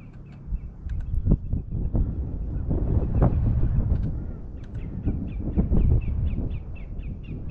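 A crow caws repeatedly by the Rio Grande in New Mexico, a series of harsh, fairly distant calls heard over heavy wind buffeting the microphone.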